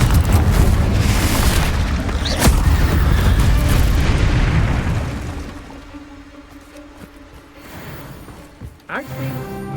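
A Confringo fire spell explosion in Hogwarts Legacy, a loud rumbling boom that swells and slowly fades, with a sharp crack partway and a brief spoken voice.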